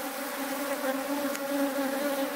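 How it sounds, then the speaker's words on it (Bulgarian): Honeybees buzz at a beehive entrance, a narrow summer gap under the roof board, in a steady close hum of many wings with no talking. "за да могат пчелите да влизат в кошера"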